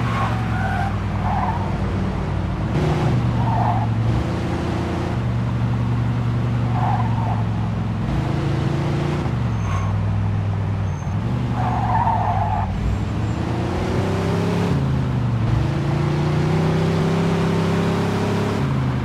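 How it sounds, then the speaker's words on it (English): A speeding car chase in the Mafia II Definitive Edition game, with a loud, continuous engine roar rising and falling as gears shift, broken by repeated tire squeals and skids, no talking. "Pursuit of a speeding vehicle."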